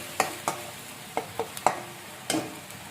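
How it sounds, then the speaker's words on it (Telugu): Onion paste frying in oil with bay leaf and four cloves for a quick chicken fry, a low sizzle broken by about seven sharp scraping stirs of a spoon in the pan. "ఫ్రై చేసుకోవాలి ఈ ఆనియన్ పేస్ట్ని బాగా"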